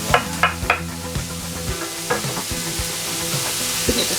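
Hillshire Farm Polish kielbasa sizzling in a buttered pan, a loud steady fry with several sharp clanks and scrapes of a utensil stirring against the metal, no voices.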